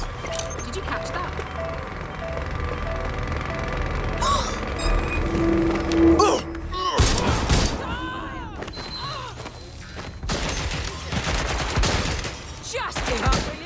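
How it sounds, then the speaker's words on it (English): Repeated gunfire bursts and volleys in the video game Watch Dogs Legion, loud and close, mixed with combat thuds and clatter while game characters call out in between. "Gunfire!"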